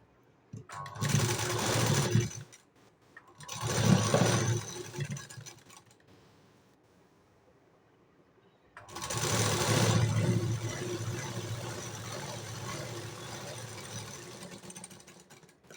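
A sewing machine stitches a straight seam on a blouse in close, rattling bursts: two short runs, a pause, then one longer steady run of rapid mechanical stitching.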